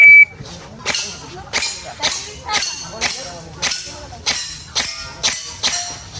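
A shot timer at an airsoft club match gives a sharp, high electronic start beep, followed by a steady series of loud, evenly spaced shots, with no talking.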